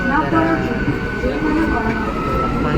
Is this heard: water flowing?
no